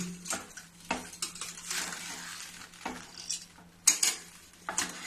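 Tomatoes being stirred in a home kitchen cooking pot, a spoon scraping and clinking against the metal in a few irregular strokes over a low background hum, close and moderately quiet.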